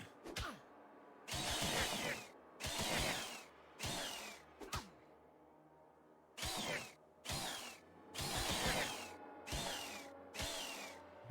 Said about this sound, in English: Okay, chainsaw's where it's at for these types of enemies.